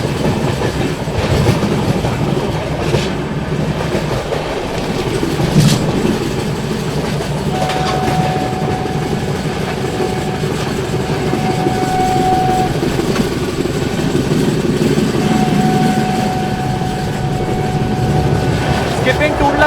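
Garib Rath express train, the 12877 Ranchi service running fast at about 130 km/h, rolling through Tundla Junction: a loud continuous rumble and clatter of wheels on track, with long sustained horn blasts partway through.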